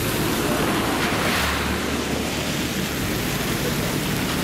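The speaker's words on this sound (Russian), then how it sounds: "такой маленький водопадик" A small mountain waterfall on a trail up a gorge in North Ossetia gives a steady, loud, broadband rush of falling water that continues unbroken throughout, with no voices.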